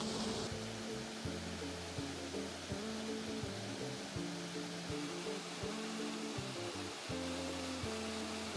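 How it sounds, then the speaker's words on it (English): A waterfall by a lake in Paris gives a steady, broad rushing wash, with a low tonal hum running beneath it throughout. "we're heading back past this lovely waterfall"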